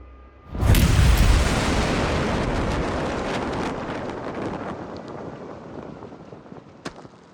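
A single heavy blast from an M109 Paladin self-propelled howitzer booms loudly, then a long rolling rumble fades out over several seconds, with a faint click near the end.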